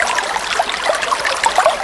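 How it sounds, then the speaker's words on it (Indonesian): Water flowing along a quiet river, a close trickling and babbling with small bright splashes over a soft steady wash, no voices. "Di tepi sungai yang sunyi, suara air mengalir."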